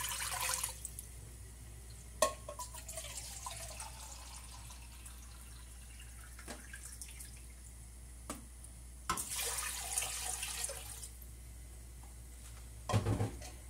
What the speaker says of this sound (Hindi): और अब हम इसमें पानी डाल देते हैं।